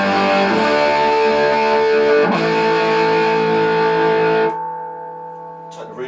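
A Romany TR20 guitar amplifier turned down to output setting 4 with volume near 7 and reverb on, sustained clean electric guitar chords ringing out and decaying, then a final softer note, close and without talk.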